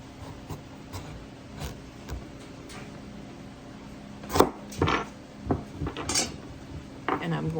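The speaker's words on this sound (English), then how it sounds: "I'm going to go ahead and cut it in half." A knife cuts a whole pumpkin in half on a kitchen board, with a series of sharp knocks and clacks of blade and utensils, some louder strikes near the middle and end.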